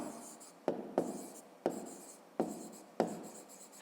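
Pen writing in a school notebook, five short scratchy strokes in an uneven rhythm, close and quiet with no talk.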